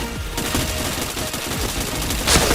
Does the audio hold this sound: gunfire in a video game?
yes